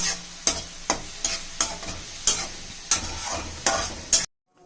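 Onions sautéing in oil until brown for a mushroom gravy, with a spatula scraping the pan in about ten regular sharp strokes over a steady sizzle, close and alone, ending in abrupt silence.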